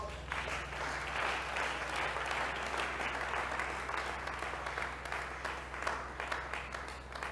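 A church congregation applauds in sustained, dense clapping that fills the room, steady from start to finish under a low background hum.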